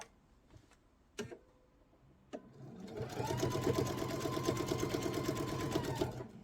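A few sharp clicks and knocks come first, then a domestic sewing machine runs steadily for about three seconds, reverse-stitching to reinforce the seam on oval placemat fabric with a fast, even mechanical whir.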